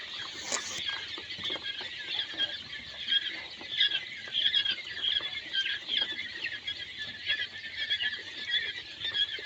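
Day-16 quail chicks in a brooder give off a dense, continuous chorus of high, rapid peeps and chirps, busy and fairly close, with faint scratching and pattering underneath and no talk.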